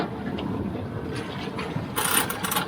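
Boat winch being tightened, a rapid metallic ratcheting clicks close by, growing brighter and louder toward the end of the short burst.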